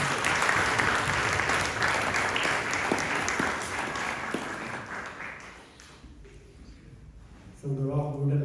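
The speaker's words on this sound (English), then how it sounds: "we should all give him one more round of applause" A round of audience applause honours a guest speaker at a Gita event, heavy at first and then thinning and fading away before a voice begins speaking at the very end.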